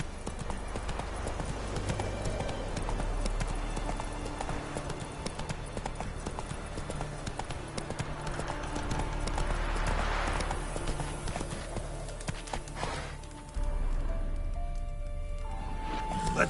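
Roach the horse gallops in The Witcher 3, hooves clip-clopping in a fast, steady rhythm over a dense game soundscape that shifts partway through, loud and continuous.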